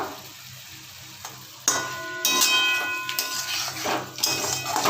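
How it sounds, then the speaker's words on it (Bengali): Fried potatoes stir-fried with spices in a pan for a Bengali fish curry with pointed gourd, giving a steady close sizzle with scraping and clinking of a spatula against the pan, louder bursts of stirring after the first couple of seconds. "ভালো করে নাড়িয়ে চাড়িয়ে কষিয়ে নেব"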